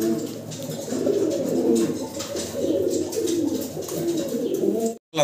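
A pair of Lahori pigeons coos in soft, repeated throaty calls, close by and continuous, with a sudden cut near the end.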